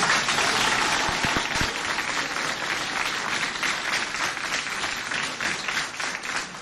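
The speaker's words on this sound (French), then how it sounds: "On applaudit." At a lycée in Doba, an audience applauds a student's presentation with a moderate, continuous round of clapping. A few sharper claps stand out near the start.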